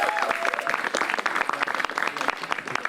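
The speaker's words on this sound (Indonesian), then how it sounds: "Tepuk tangan lu dong buat kita semua nih." An audience at a live stand-up comedy show in Depok claps in dense, steady applause for three seconds, with a faint voice briefly audible.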